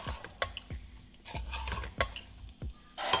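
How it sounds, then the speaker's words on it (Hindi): A spoon stirs amla pickle in a pan with the gas turned off and salt just added, giving repeated scraping strokes against the metal, close and steady, with a brighter clink right at the end. "अब मैं धीरे धीरे इसको मिक्स कर लूंगी अच्छे से।"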